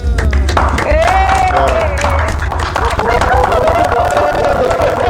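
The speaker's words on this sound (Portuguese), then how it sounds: "nós vamos dar uma forte salva de palmas para alegrar o nosso coração" At a Bible study, a congregation gives a strong round of applause, dense continuous clapping that runs the whole stretch, with crowd voices and a sustained sung or called tone running through it.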